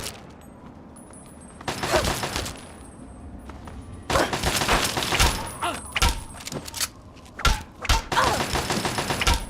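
Gunfire in the Fallout video game: bursts of sharp shots and rapid volleys come in clusters, loud and close, with a short quiet stretch near the start.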